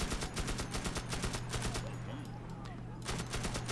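Rapid repeated weapon fire in the video game Magicka, loud bursts of gunfire in rhythmic volleys that pause briefly midway before resuming, with a low steady drone underneath.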